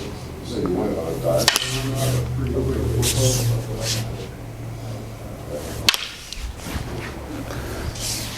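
Wooden jodo staffs strike together in traditional Japanese stick-fighting practice, two sharp cracking clacks several seconds apart over room noise, with people talking throughout.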